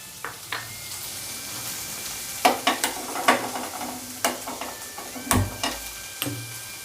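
Chickpeas drop into hot oil with asafoetida in a pan, a steady sizzle broken by repeated sharp clinks and scrapes of stirring.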